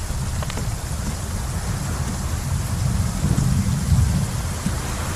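Steady rain falling with low rumbling thunder rolling underneath, building slightly toward the end of a dry savanna scene.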